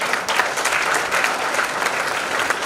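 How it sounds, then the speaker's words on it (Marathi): A hall audience at an award ceremony bursts into loud applause: dense, sustained clapping from many hands, close and continuous for a few seconds with no break. "एकदा जोरदार टाळ्या."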